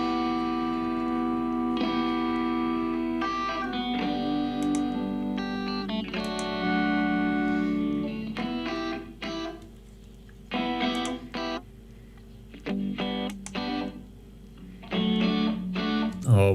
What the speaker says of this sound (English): Let's put this room channel on the first guitar, for example, just to find out how it sounds.